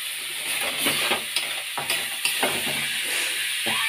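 Water poured onto frying banana flower sets off a bright, close sizzle that keeps hissing steadily, punctuated by several sharp spatula scrapes and knocks against the pan.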